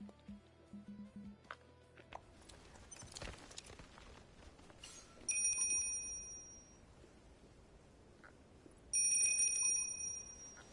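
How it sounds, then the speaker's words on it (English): Fishing rod bite bell in the Fishing Planet fishing game, a few faint clicks followed by two bright ringing bursts a few seconds apart, over quiet ambient background. "I think I heard my bell."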